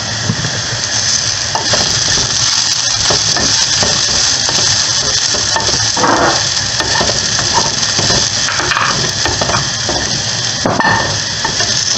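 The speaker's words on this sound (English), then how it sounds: "Fried shallots." Shallots fry in hot oil with a loud, steady sizzle and crackle that runs the whole time, with occasional stirring scrapes, close up and without speech.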